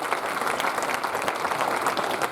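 A francophone church conference congregation applauds in praise during a sermon, a steady wash of many hands clapping, fairly distant and moderately quiet.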